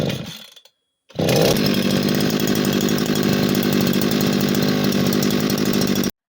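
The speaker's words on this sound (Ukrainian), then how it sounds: "Бензокосарка благополучно собі розпрацьовується" A new petrol brush cutter being run in starts after a brief silence and holds a loud, steady high-revving two-stroke engine drone close by, then cuts off abruptly.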